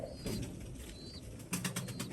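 A pigeon is released and flies off, its wings flapping in a quick burst of beats near the end, with soft cooing and outdoor background noise before it.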